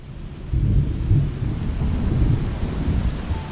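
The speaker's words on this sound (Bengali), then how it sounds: "পুরুবকের বনে বৃষ্টি নেমেছে।" Rain pours steadily over a forest during a storm while low, rolling thunder rumbles through it, swelling loudly after a brief quieter start and holding as a continuous deep roar with no voices.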